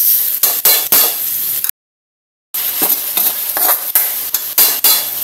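Garlic, onion and liver sauté in a pan with steady frying sizzle and repeated scraping stirs, close and loud, broken by a short silent gap partway through.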